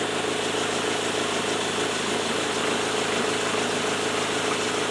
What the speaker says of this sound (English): Get it running, let the clutch out a little bit and spin the wheels.